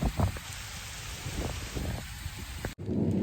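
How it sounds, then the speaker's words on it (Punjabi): Steady rain hisses across the whole clip with a low rumble underneath, dense and close, then cuts off abruptly near the end into a duller background. "ਮੀਂਹ ਨਹੀਂ ਹਟਿਆ ਹੈਗਾ"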